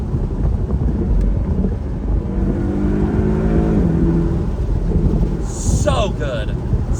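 A 2018 Porsche 718 Boxster pulls hard from cruising in fourth gear, the engine note rising steadily beneath heavy wind noise from the open cabin, heard from inside the car.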